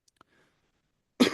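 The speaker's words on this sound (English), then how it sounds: "sorry, Cough break." A single short cough bursts out at the end after near silence, close and fairly loud, preceded by a couple of tiny faint clicks.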